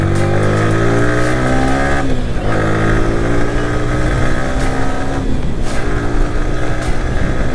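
A Yamaha R15 V3 motorcycle engine running while riding, a loud, steady close-up drone with a brief dip in pitch around gear changes.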